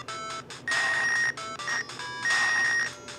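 Electronic ringing tones chime in repeated bursts in the Game Boy game Pit-Fighter, a bright beeping telephone-like pattern with short gaps between rings.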